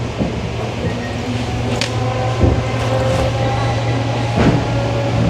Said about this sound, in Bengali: ট্রেনটা যখন অ্যাক্সেলারেট করে তখন যে আওয়াজটা হয়।